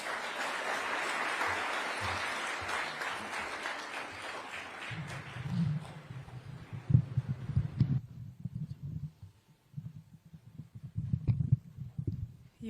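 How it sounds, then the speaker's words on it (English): Audience applause at a Mazingira Day environmental event in Kenya, a broad wash of clapping for the first several seconds that fades out, leaving low rumbling handling and room noise. "Another big round of applause."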